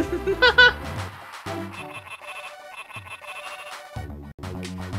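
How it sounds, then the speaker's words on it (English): In the WarioWare, Inc. video game, a frog croaks with an electronic warble like a ringing telephone, repeated in bursts over game music, loud and close. "this frog sounds like a phone, and I enjoy it."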